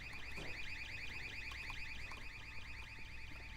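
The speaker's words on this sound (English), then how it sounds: "What's with the constant beeping?" In Half-Life 2, an electronic beep pulses quickly and steadily without pause, loud and alarm-like, over faint background game sounds.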